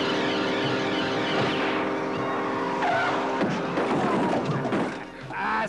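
Cartoon car from a French animated series skidding with squealing tires and crashing into a heap of scrap metal, loud and dense with music-like layers and thuds, ending in a brief dip.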